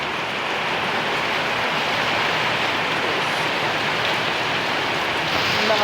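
Heavy rain pours steadily, a dense, continuous hiss of water close by with no breaks.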